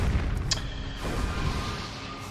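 A bomb card explodes in Hearthstone with a deep booming blast and rumbling low-end burst, followed by a lingering crackle and a smaller secondary thump, loud and close, with no talking.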